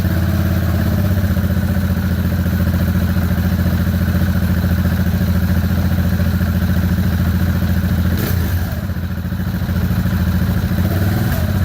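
A decat KTM 690 Duke single-cylinder engine idles steadily through an Ixil Hexoval Xtreme Evolution exhaust fitted with its largest baffle, giving a loud, close, even thumping drone throughout.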